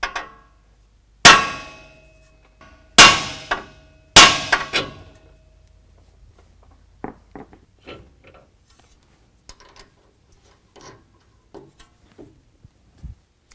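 A hammer strikes the tie rod of a 2021 Ford F-150 with three loud, ringing metallic clangs, followed by a series of lighter, fainter taps and clinks on the suspension.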